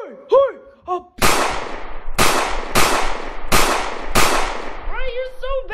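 A voice imitates gunshots for a mock shooting scene: five loud, close, noisy bangs in an even rhythm, bracketed by whooping vocal sounds before and after.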